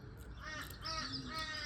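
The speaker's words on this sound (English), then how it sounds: "The crow. The crows." Several crows caw in the distance, a run of harsh, rasping calls repeated in quick succession over a low outdoor background hum.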